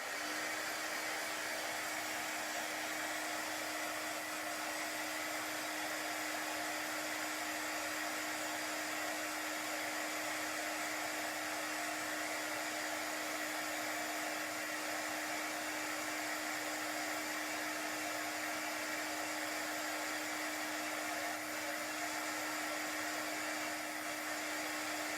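A heat tool blows continuously to dry chalk paste on a craft project, a steady loud whirring hum with a constant motor tone that holds unbroken throughout, no talking.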